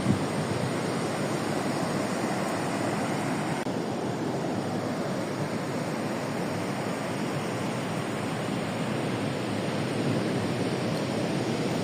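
Ocean waves wash onto an empty beach as the tide rises, a steady, continuous roar of surf with a gentle swell and no voices.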